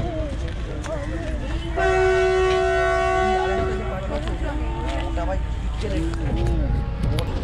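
Train horn sounding in steady harmonic tones at a railway station in West Bengal, loud and sustained for about two seconds amid station bustle, with people talking throughout.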